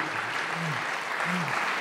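Concert hall audience applause welcoming a jazz piano trio with a radio big band, a continuous, even wash of many hands clapping under a brief spoken voice.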